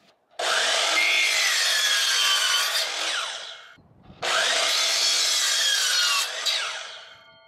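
Saw cutting through a wood piece at a 25-degree angle in two long strokes-like passes, each a few seconds of steady, close, loud rasping cut with a brief pause between, no talking.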